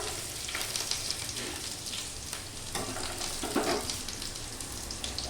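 Chopped ginger sizzles and crackles in hot oil in a pan while cooking a spinach and mushroom dish, a steady close frying hiss with occasional stirring scrapes and no talk.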